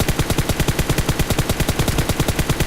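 A full-auto weapon in PUBG Mobile fires a rapid, evenly spaced stream of loud shots, about twenty in under three seconds, close and uninterrupted.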